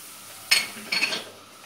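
Two quick bursts of flour dropping into a hot pan with bay leaves for a restaurant-style Turkish tomato soup, a soft sizzle and scrape of stirring, close and brief with no voices.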